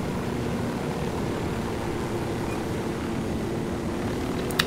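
A helicopter in the video game Ghost Recon Wildlands gives a steady, droning rotor and engine roar that stays even and continuous throughout, with no talking.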